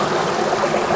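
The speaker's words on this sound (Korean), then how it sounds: "물소리가 아주 시원하고 아주 좋습니다" A full mountain valley stream rushes steadily close at hand, a loud continuous broadband wash of flowing water with no voices.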